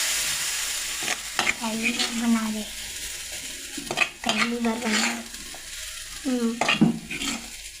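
Jackfruit seeds and tomato are stir-fried in a pan, with a spatula scraping in bursts over a steady sizzle and a few clinks of utensils against the metal; no one talks.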